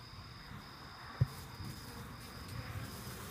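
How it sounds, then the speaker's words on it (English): Bees swarming out of a disturbed beehive make a faint, steady buzzing drone with one brief sharp knock partway through. No one speaks. "There's a whole lot of bees."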